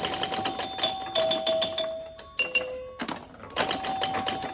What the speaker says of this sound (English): pay attention to how those bells and chimes sound